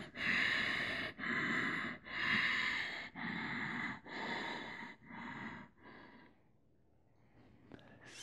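Seven strong, rhythmic breaths pushed through the nose and mouth during a yoga back bend, each about a second long and evenly spaced, fading over time before the room goes quiet.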